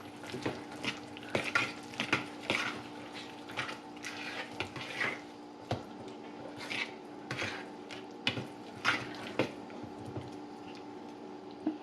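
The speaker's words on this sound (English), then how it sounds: "when you're mixing it, if you notice that there are some bigger chunks of feta, you can just go ahead and break them up at this stage too" Crumbled feta cheese being stirred into a banitsa filling in a bowl, a steady run of soft wet mixing and scraping strokes, close and moderately loud, with no talking.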